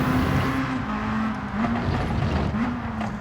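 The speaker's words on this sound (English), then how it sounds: "You can hear that he's in second and he's spiking the rev sooner" A race car engine in Gran Turismo 7 revs in second gear, the pitch rising and spiking repeatedly over steady road and tire noise, close and loud with no voices.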